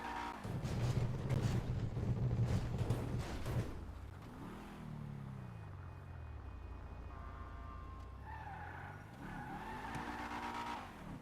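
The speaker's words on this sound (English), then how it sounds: "By driving down the stairs here, we can easily get to the entrance of the UD." A car in the video game GTA V drives down a flight of stairs, its engine loud and revving with tires squealing and skidding, then the engine pitch sweeps down and climbs back up as it accelerates.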